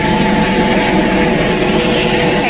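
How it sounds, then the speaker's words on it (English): A helicopter passes overhead near a crash scene, its loud, steady rotor and engine roar filling the whole stretch with no voices. "Helicopter coming from Melbourne."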